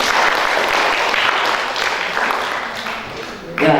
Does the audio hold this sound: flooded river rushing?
no